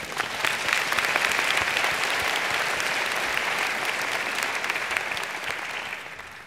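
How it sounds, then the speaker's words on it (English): A medical school commencement crowd applauds the graduating Class of 2019, with sustained, dense clapping from a large audience that fades slightly toward the end. "Let's have one more round of applause for our class."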